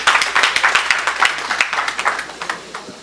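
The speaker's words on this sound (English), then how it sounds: "please give me a big round of applause" Applause at a church gathering honoring a pastor, a crowd clapping in a brisk, uneven rhythm throughout, fairly close and lively.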